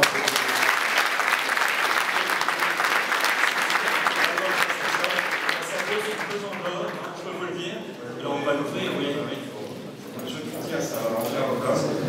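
Audience applause at a Prestashop Barcamp awards ceremony, dense and loud from the start and easing slightly after the midpoint, with voices talking over the clapping.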